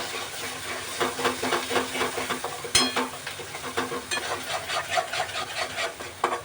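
Spices and an onion-coconut paste fry in hot oil, a close sizzling hiss broken by repeated scraping and stirring strokes of a spoon against the pan, with a couple of sharper clinks.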